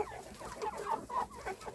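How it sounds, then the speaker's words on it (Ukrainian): Chickens cluck in a yard in a steady, busy chatter of short overlapping calls, fairly close and moderately loud, with no talking. "На подвір'ї курчатка."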